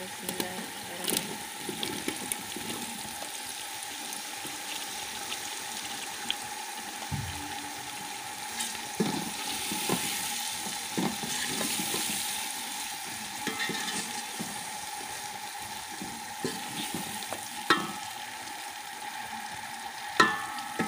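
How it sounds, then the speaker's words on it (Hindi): Tomato-laced masala for a cabbage and pea dish fries in a pan, a soft sizzle broken by stirring scrapes and clinks, with scattered kitchen noises. "अब हम इसमें एक टमाटर शामिल कर देंगे।"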